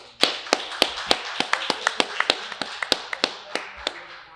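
A single pair of hands claps steadily and close by, about fifteen crisp claps in an even rhythm. They are not a crowd and sound alone, without talk, as a nod to an audience at a business talk.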